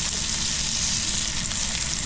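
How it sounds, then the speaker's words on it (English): Steady, close sizzling of garlic and fish frying in a hot pan on a beach, a continuous bright crackle with no talking. "A little bit of garlic, We're going to sizzle."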